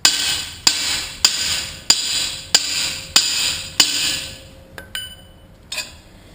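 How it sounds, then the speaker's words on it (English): A bushing driver on a long extension is struck repeatedly to tap a bushing into a 4L60E transmission case: about seven sharp, ringing metallic hits at an even pace, then a few lighter taps. "Get our special press or bushing driver, long extension, and tap this into place."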